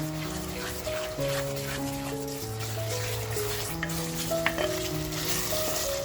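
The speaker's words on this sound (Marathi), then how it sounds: "मसाला आपल्याला असा छान खमंग परतवून घ्यायचा आहे" Nagpur-style Saoji mutton masala sautés in oil, a steady close sizzle and crackle with stirring scrapes, over soft background tones, without talk.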